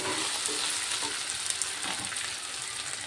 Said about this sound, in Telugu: టమాటా మగ్గాలి కదా నూనెలోనే